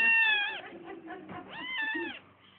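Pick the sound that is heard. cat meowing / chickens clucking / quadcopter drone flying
cat meowing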